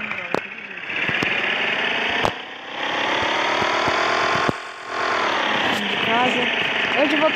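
A motorcycle engine runs steadily at close range, a continuous buzzing drone with a dip around the middle and sharp clicks, and someone talking partly over it.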